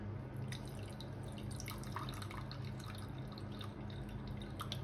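Fifty grams of water is poured for a sponge cake syrup, a faint trickle with small splashing drips that run continuously at close range, with no talking.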